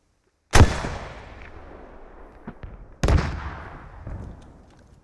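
Two sharp, loud gunshot-like blasts about two and a half seconds apart in a video game, each with a long reverberant tail and smaller pops between them, with no talking.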